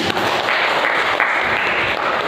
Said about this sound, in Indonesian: tepuk tangan yang meriah untuk Krisna